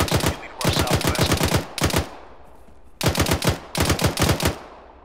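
Machine gun fire in a war video game on a beach assault, with loud, rapid bursts of automatic shots separated by brief pauses, close and dominant, no talk.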